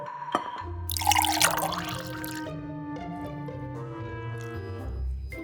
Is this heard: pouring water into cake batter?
yes